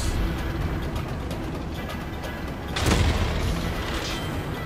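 A tank cannon shot booms in a tank battle video game, one loud blast near the middle rising above a steady engine rumble and battle noise.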